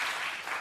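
A snooker crowd applauds a century break by Mark Williams in a Champion of Champions semi-final, a dense, steady patter of clapping sustained throughout without a break.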